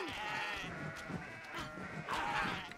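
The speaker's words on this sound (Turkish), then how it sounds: "Bak keçiler geliyor." Goats bleat in the video game Kenshi: a few wavering, nasal bleats close by over a steady game ambience, with the loudest call near the end.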